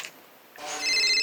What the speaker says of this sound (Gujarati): આ બુનનો ફોન આવ્યો જો